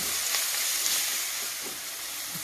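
Grated raw mango softens in hot oil for mango pulihora, a close, steady sizzling hiss with soft stirring scrapes, fading slightly toward the end, no voices.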